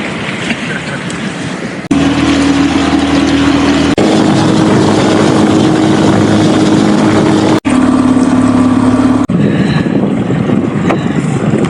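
A motorboat engine drones loud and steady on an ultralight fishing trip off Moon Island, Abu Dhabi, a continuous close hum with brief shifts in pitch and faint talk.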